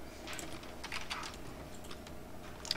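Soft, quick computer keyboard typing in a quiet room, a run of light key taps across a few seconds.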